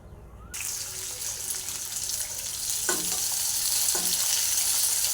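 Hot Bombay chilies added to a pan with cloves and water-mixed spices, setting off a loud, rushing sizzle that builds and holds, with a couple of brief clinks partway through.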